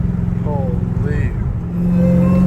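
A catless Dodge Challenger Hellcat Redeye with a supercharger, revving close by: a low, steady engine drone rises into a louder sustained rev with a thin whine on top, and a voice talks over the start.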